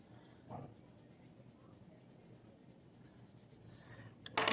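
Colored pencil rubs softly across paper in light shading strokes, a faint continuous scratchy whisper with an occasional louder scrape.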